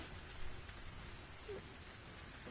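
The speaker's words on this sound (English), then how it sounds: "Could I persuade you to come out of the rain, Flora?" Steady rain falls in the video game The Invisible Hours, a dense, even hiss that fills the whole stretch without letting up. No one speaks.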